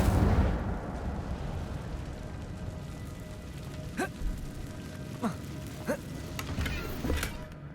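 The Incendio fire spell in the video game Hogwarts Legacy: a loud whooshing blast at the start, then a low steady rumble broken by several faint crackling pops.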